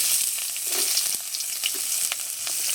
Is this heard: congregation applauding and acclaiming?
no